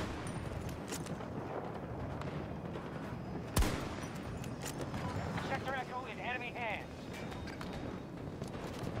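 A single sharp gunshot cracks out midway through the steady din of a Battlefield 2024 Breakaway match, followed by voices speaking over the ongoing battle noise.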